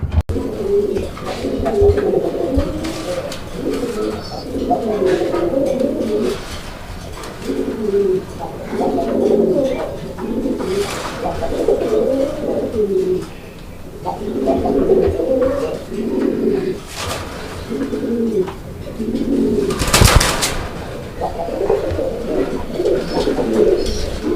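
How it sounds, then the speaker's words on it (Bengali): A pair of silver Lahori pigeons coos steadily, close by, in repeated low rolling phrases that continue throughout with only brief pauses. "এটা লাহোরি কবুতর একটা পেয়ার, দেখতেই পাচ্ছেন আপনারা"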